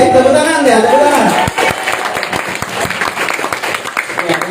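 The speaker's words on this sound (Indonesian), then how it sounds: "tepuk tangan ya, tepuk tangan" Seminar audience in a hall claps in a loose, uneven patter under a voice that carries on speaking loudly over the first part, with crowd murmur filling the room.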